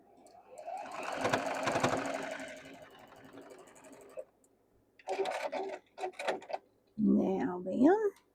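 A sewing machine stitches a quarter-inch quilt seam in a steady whirring burst, then pauses; short mechanical bursts follow, and a person talks near the end.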